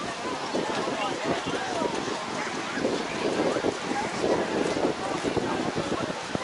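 Steady wind buffets the microphone outdoors at Clearwater Beach, Florida, a continuous rushing roar with gusty low thumps and no clear voices.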